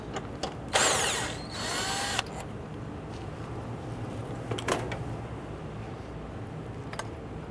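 On a 2008-2013 Infiniti G37, a power tool spins out the 10mm bolt securing the airbox to its bracket in one loud buzzing burst of about a second and a half, followed by quiet background with a few faint clicks.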